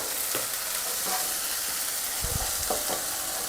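Oil sizzles and fries steadily in a pan as half a tomato is added, a close, even hiss with a few soft stirring knocks underneath.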